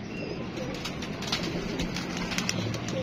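Pigeons coo softly amid a constant background murmur and faint rustling, the calls low and overlapping rather than distinct.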